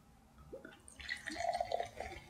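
Bubbly Cracker Barrel soda pours and fizzes into a glass, giving a soft, close stream of splashing with light dripping and faint carbonated crackle.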